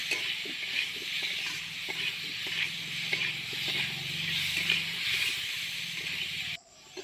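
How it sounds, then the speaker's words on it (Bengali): Potatoes frying in hot oil in a kadai with salt and turmeric, a steady close sizzle and hiss with occasional stirring scrapes, ending abruptly. "আবারও আলুটাকে আমি ভালো করে ভাজা ভাজা করছি"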